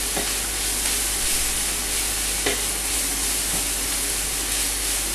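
Green borscht mixture sizzles and fries in a pan while being stirred, with a steady broadband hiss broken by occasional scraping strokes of the utensil, close and continuous with no talking.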